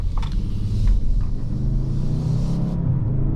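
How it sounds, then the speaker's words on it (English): A 2023 Lincoln Navigator Reserve with a twin-turbo engine accelerating hard, heard from inside the cabin as a deep, steady engine rumble that swells and holds, loud and close with no talking. "this does pull very well, this engine, of course. The two turbos, you can hear them."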